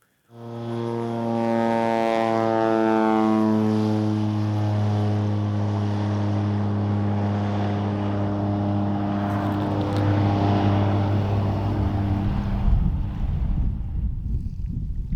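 A bush plane's piston engine roars up to full power during takeoff from a lake in Alaska, a loud, steady drone with strong low harmonics that holds for the whole stretch, climbing slightly in pitch, with wind buffeting near the end.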